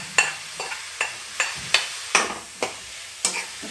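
Marinated prawns frying in a pan for Mangalore-style prawn curry: about eight evenly spaced scraping stir strokes, each with a short sharp sizzle, over a soft, close background hiss.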